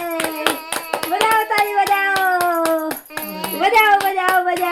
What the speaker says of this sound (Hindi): और देखा ताली बजा रही है